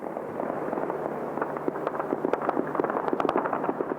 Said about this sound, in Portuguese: Fogos de artifício e disparos marcaram a noite em Beirute